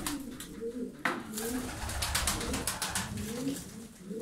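Tumbler pigeons, Turkish show birds, cooing in repeated low soft calls across the clip, close and fairly steady, with some background rustle and faint distant noise.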